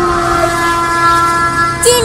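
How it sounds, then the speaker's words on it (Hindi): A cartoon train approaches with a sustained horn-like tone and rumbling rail noise, steady and loud, rising in a brief squeal near the end. "आगे देखो ट्रेन आ रही है।"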